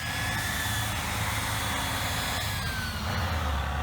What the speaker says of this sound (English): From the front, you can hear the predominant signature whine of the turbine responsible for keeping it cool.